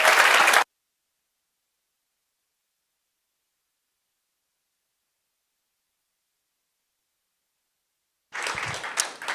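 Audience applause for an opening keynote at a tech conference, a brief burst of many hands clapping that cuts off into dead silence, then returns for about a second at the end.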